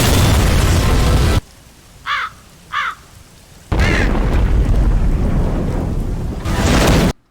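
An oil explosion in a Team Fortress 2 animation, a loud roaring blast that cuts off abruptly, then two short chirps, then another loud burst and rumble.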